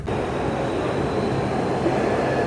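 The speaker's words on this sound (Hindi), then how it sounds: "मेट्रो आ गई।" A Delhi metro train arriving at an underground station, a loud, continuous rumble of wheels and carriages filling the enclosed platform, steady and close without a break.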